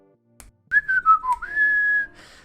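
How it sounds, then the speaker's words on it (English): Someone whistles a short wavering melody, a few quick gliding notes followed by one long held tone, clear and close against near silence, as a sound effect in a tabletop role-playing game. "the first thing you guys start to hear is somebody whistling"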